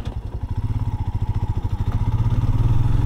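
A Royal Enfield Himalayan motorcycle engine clatters close up with a fast, even mechanical thumping that quickens as revs rise, plus an odd chain noise, loud and alone.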